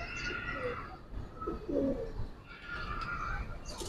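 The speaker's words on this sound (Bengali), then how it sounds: "একদম সম্পূর্ণ পাথর চোখের কবুতর ভাই" A Giribaz pigeon coos softly at close range against a low background murmur, with no speech.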